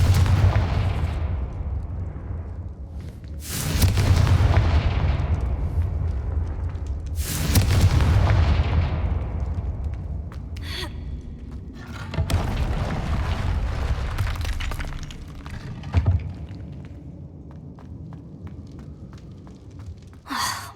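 Fiery Confringo spell blasts in Hogwarts Legacy, a series of heavy booming explosions several seconds apart, each loud impact decaying into rumble, with softer combat effects and grunts between them.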